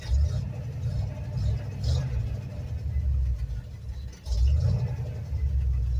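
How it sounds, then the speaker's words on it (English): An old truck engine running cold and not yet warmed up, charging a little hard, gives a steady low rumbling idle, loud and close throughout, with a brief dip near the middle. "This old truck here sure does sound good."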